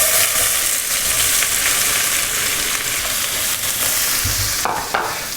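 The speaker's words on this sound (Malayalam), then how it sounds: "സോ ഇതിലേക്ക് നമ്മൾ ആദ്യം എടുത്തു വെച്ച സവാള, ഞാൻ 2 വലിയ സവാള എടുത്തിരിക്കുന്നത്." Two large sliced onions fry in hot oil for a soya chunks fry, giving a loud, dense, continuous sizzle close up, with a brief stir and clatter near the end and no talking.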